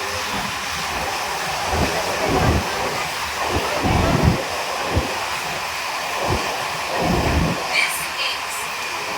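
Steady rumble of a moving, near-empty passenger train approaching Jhargram, with rhythmic clacks and broadband rattle, a faint high-pitched squeal near the end.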